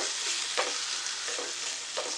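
Onion and tomato frying in a pan for a dried mini prawn dish, a continuous bright sizzle close by with a few soft scrapes of a spoon stirring, no voices.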